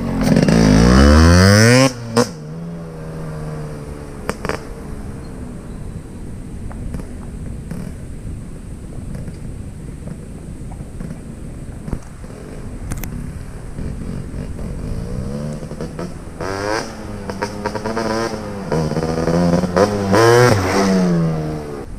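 Modified Yamaha RX135 two-stroke motorcycle revving hard, with sharp rising throttle blips at the start and end around a steadier, rougher idle-like drone in the middle, loud and close.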